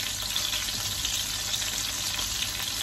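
Tomatoes hit hot oil that has been flavored by sautéed clams, producing a loud, dense, continuous sizzle, steady and close throughout with no voices.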